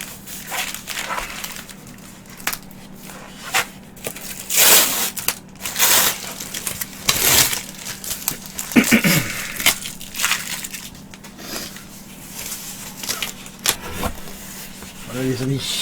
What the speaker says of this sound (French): nous allons commencer à déballer ça délicatement pour pas arracher tout le truc